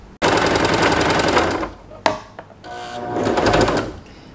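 A Janome 311 Arctic Crystal sewing machine winding a bobbin, its motor whirring loudly and close in two sustained runs separated by a brief stop and click.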